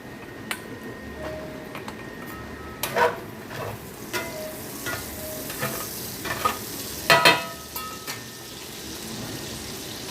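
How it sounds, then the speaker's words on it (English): A spoon stirs caramelizing onions sizzling in a pan with bacon grease, a steady low frying hiss broken by several scraping and clinking stirs, close by and moderately loud, with no talk. "We're going to turn back to our caramelizing onions."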